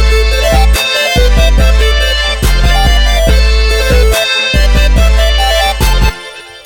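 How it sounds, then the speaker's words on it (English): A trap beat plays loudly, with a booming low bass and a sharp clap-snare hitting in a regular pattern over a repeating melody. "Now it's time for the clapper snare."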